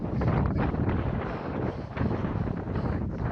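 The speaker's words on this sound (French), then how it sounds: "It has been super windy today." Strong gusty wind on a mountain buffets the microphone with loud, rough low rumbling and shifting bursts, continuous and close throughout.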